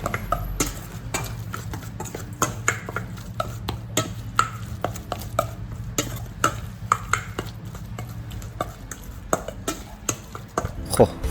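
Rapid, irregular chopping and mixing clatter of minced meat being worked into Thai laab in a bowl, busy and close, with a low hum underneath throughout.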